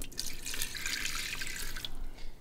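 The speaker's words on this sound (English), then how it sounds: "now we're adding 1 cup of water to the Instapot" One cup of water pours from a container into an Instant Pot, making a steady, soft splashing trickle for about two seconds that fades out at the end, with no talk.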